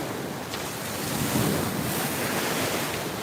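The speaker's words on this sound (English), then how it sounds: "Just endless wave upon wave upon wave." Ocean surf breaks on Fort Lauderdale beach in a continuous wash of waves, fairly loud and close, with gusty wind buffeting the microphone.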